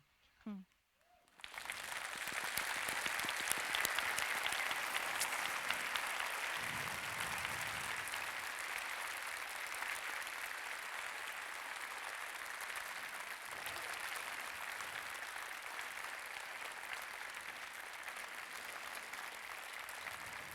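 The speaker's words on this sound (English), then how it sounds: "I let them applaud you, so you feel our warmth from here." Sustained applause from a live audience at a public screening or interview event, starting after a short pause and continuing steadily and loudly throughout, with no talking over it.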